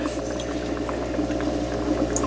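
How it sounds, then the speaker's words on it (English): Excess water is poured off a hydroponic lettuce tray, producing a steady, close, bubbling gush of liquid that runs for a couple of seconds without talk. "pour this extra water off."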